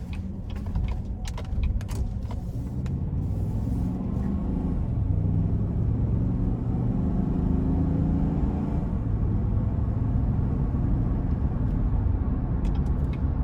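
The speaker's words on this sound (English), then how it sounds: "it's time to go ahead and take this Yukon out on the road for a quick test drive" A 2018 GMC Yukon SLE with a 6-speed automatic and about 54,000 miles, heard from inside on a test drive, gives a steady low engine and road rumble with faint rattles, and nobody speaks.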